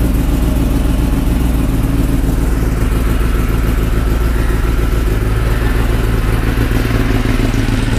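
A Ninja superbike's engine idles right after starting, a loud, close, continuous rumble with a fine clattering texture throughout, and no talking.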